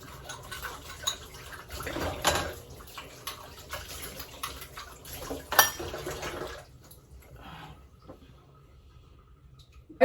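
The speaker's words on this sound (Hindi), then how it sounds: "हल्का हल्का गर्म पानी आ रहा है इसमें अभी भी।" Warm water runs from a geyser-fed tap in a home bathroom, a soft splashing trickle that swells and fades unevenly and drops away near the end.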